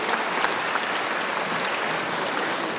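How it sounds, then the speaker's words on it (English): Steady applause from a large crowd at a convocation, dense clapping that holds at an even level for a few seconds with no voices over it. "So again, round of applause."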